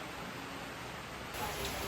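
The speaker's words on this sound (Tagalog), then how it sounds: "malakas talaga ang ulan" Heavy rain falls steadily on wet ground outdoors near a waterfall, a dense, continuous hiss that fills the whole clip with no pauses, close and even in loudness.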